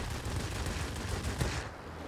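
Twin 20mm cannons and accompanying machine guns on a Yak-7 M-82 fighter in a World of Warplanes air battle, firing in one continuous dense burst that cuts off near the end.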